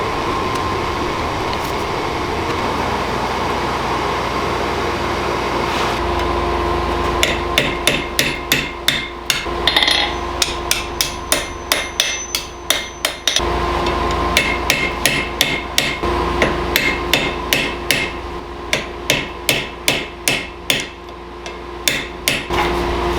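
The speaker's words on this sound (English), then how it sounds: "I'm going to be upsetting the end, so I'm going to make this end really fat" A hammer strikes the end of a 3/8 inch steel bar on an anvil to upset it while forging a spear, with many loud ringing blows in quick rhythmic bursts following a stretch of background noise.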